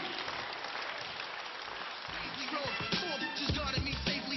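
Audience applause at a Zhaidarman comedy show, a continuous wash of clapping with someone speaking over it toward the end.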